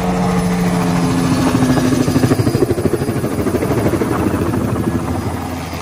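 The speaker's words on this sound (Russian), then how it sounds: "Вот таким вот макаром вертолет летает туда-сюда." A helicopter flies back and forth over a Christmas tree farm in the USA, its rotor chopping loudly and close in a steady, pulsing beat throughout, with no voices.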